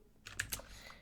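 Keys on an external computer keyboard clack in a short irregular burst, several distinct close taps at low volume, with no voice.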